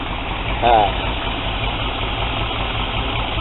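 A 1976 Chevrolet engine idles with a steady low rumble throughout, and a brief faint whistle-like tone near the start.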